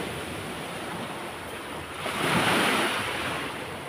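Large sea waves breaking as surf along a shore, a steady broadband wash that swells louder around the middle as a bigger wave crashes, with wind buffeting the microphone and no voices.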